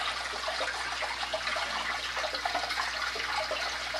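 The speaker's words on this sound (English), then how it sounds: "Now the matting filtration is over here, and like I said, it's got 2 pumps that I use, 2 sun pumps, 480 gallons of flow." Two pumps push water through the matting filtration of a cichlid tank, giving a constant close rushing and trickling wash with no breaks.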